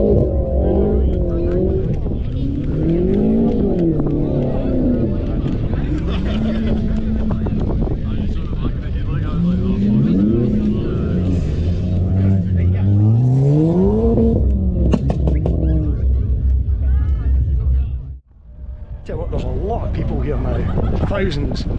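Loud car engines rev and whine up and down in pitch, with tires squealing as cars drift on grass at a car cruise, as a voice talks over the roar before a brief dip.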